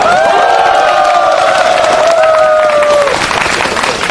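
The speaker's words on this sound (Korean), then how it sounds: "다시 한번 뜨거운 박수 부탁드리겠습니다" A protest rally crowd outside applauds and cheers loudly, with thick, continuous clapping and a long sustained shout or whistle riding on top before fading into general crowd noise.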